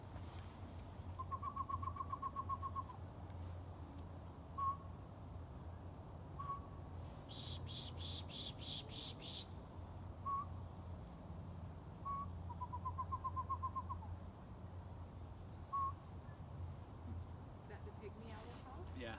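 A person whistles an imitation of a pygmy owl call outdoors during a winter bird count, repeated short tooting phrases, with a burst of small-bird chatter midway and steady background rumble and talk throughout.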